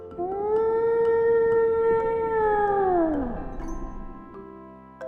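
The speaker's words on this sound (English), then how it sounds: "W for whale." A whale call: one long, loud, moaning tonal cry that holds steady, then bends downward and fades, heard alone over faint musical tones.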